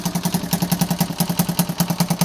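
A 1976 Honda CF70 Chaly motorcycle engine idles close by with a steady, rapid thudding pulse and a slight exhaust leak chuffing at each beat, running alone with no talk.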